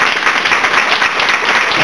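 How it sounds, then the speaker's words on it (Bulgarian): An audience applauds at a small Easter concert, a dense, steady wash of clapping that continues throughout. "Аплодисменти"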